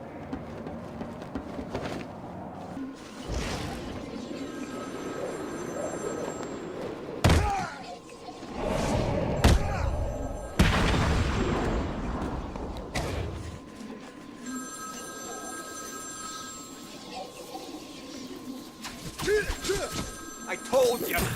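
Telephone ringing in the video game Batman: Arkham City, repeated electronic ring bursts over game ambience with thuds and impacts, while someone talks between the rings.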